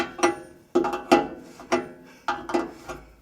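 A wrench works on air brake line fittings beneath a Smokey and the Bandit tribute truck: several sharp metallic ratcheting clicks in short irregular bursts, close and alone.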